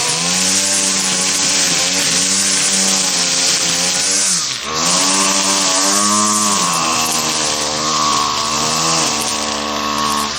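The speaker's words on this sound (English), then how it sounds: "He's weed whacking over there." A string trimmer runs nearby outdoors, a loud, steady buzzing motor drone that dips briefly, then revs back up and wavers in pitch for the rest of the stretch.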